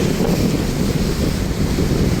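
Ocean surf at high tide washes continuously against the shore, partly buried under heavy wind buffeting the microphone.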